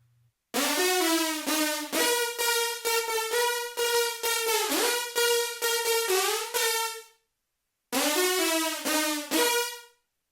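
Aggressive trap synth lead from a sampler, brightened with high shelf and low pass EQ and heavily squashed by OTT multiband compression, playing loud rhythmic staccato and sliding notes, with a short gap before the phrase resumes.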